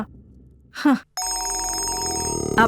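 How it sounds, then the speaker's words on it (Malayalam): A telephone rings in a domestic indoor setting, a steady electronic ring lasting over a second after a brief vocal sigh, with a short voice sound near the end. "നീ ആ ഫോണിങ് എടുത്തേ."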